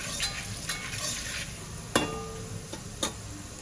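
Steady crackling sizzle of turmeric, asafoetida and red chilli powder tempering in hot oil, with a few sharp clinks of a spoon against the pan, close by.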